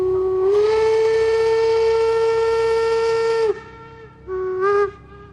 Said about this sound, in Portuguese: Minutos depois, o apito foi dado